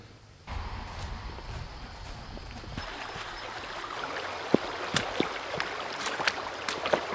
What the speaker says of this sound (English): The creek is flowing pretty good today.